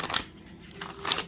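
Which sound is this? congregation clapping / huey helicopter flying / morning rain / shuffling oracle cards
shuffling oracle cards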